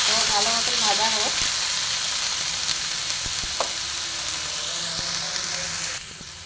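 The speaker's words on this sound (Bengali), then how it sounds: "এটাকেও আমি এর সঙ্গে ভালো মতন ভেজে নেব, খুব সুন্দর করে আমি ফ্রাই করব।" Grated coconut frying in a pan with an ongoing dense sizzle and crackle, steady and close, with brief faint voices early on and occasional clinks of stirring.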